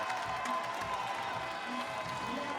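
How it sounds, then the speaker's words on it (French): A crowd applauds and cheers at a school handball tournament, a dense continuous wash of clapping and distant voices that holds steady without a break. "Et voilà, tout le monde l'applaudit"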